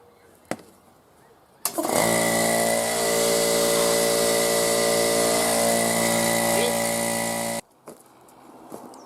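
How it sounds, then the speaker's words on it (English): An air compressor kicks on and runs steadily with a loud, constant mechanical drone and hum for about six seconds, then cuts off abruptly, leaving quiet room tone. "Been a while since I ran the compressor."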